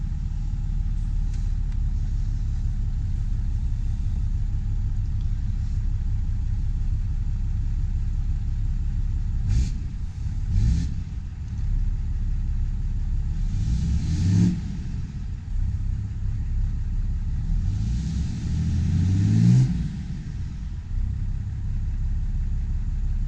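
Lifted Ram 3500 show truck with aftermarket exhaust work, idling with a steady deep rumble and a few sharp revs that rise and fall, close and loud with no talking.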